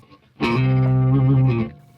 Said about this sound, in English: we've got this this vast convolution chamber reverb